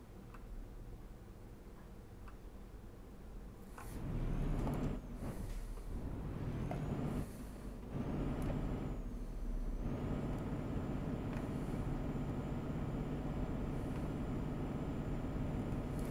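A DAF truck in a truck-driving video game, its engine a steady low drone, with several short air-brake hisses and faint ticking in the middle. No one speaks.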